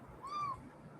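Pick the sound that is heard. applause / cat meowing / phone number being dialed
cat meowing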